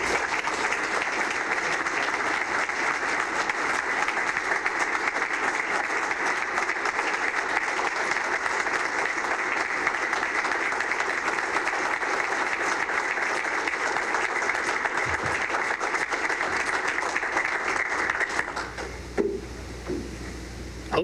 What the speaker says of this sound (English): I hope you guys are clapping like that on game day.